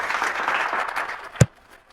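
A church congregation applauding, a soft wash of clapping that ends with one louder final clap before falling quiet.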